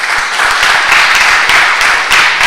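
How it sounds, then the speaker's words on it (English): Applause from the audience at a results release ceremony, a loud, brisk wash of many hands clapping close by, sustained and even throughout with no voices over it. "I must ask you again to give our rural schools a round of applause."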